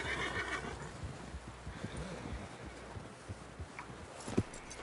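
A horse neighs and whinnies in a PS4 video game, with clip-clop hooves and a busy game soundscape around it, loud and close.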